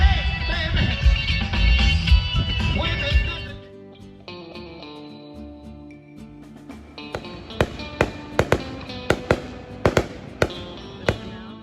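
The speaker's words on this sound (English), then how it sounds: "firework displays we've ever been to" Fourth of July fireworks in a small Texas town pop in a series of sharp bangs, preceded by a loud rumbling, musical stretch, the bursts spaced irregularly and fairly close.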